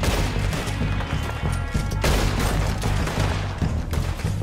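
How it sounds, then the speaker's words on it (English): Rapid weapon fire from the hip in the video game Red Dead Redemption 2, a loud dense burst of gunshots with booming reports that overlap throughout, close and without speech. "You can fire weapons quickly from the hip."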